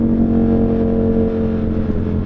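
A loud, steady Ducati Streetfighter V4S motorcycle engine drones close by with a constant hum and no clear revving or talk, riding on a freeway.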